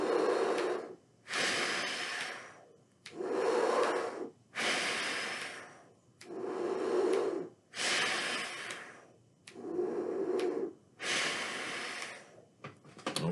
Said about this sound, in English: when you do breathing exercises like this